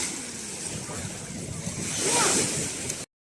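Sea waves at a clean beach in Çandarlı, Turkey wash in as a continuous surf roar that swells midway, mixed with gusty wind noise on the microphone before cutting off abruptly.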